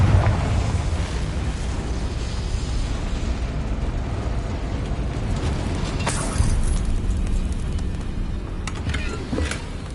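Confringo blasting spell detonating in a Harry Potter video game, a sustained rumbling roar of explosion with a few sharper cracks and bursts punctuating the dense low boom.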